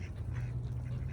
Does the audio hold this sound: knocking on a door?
no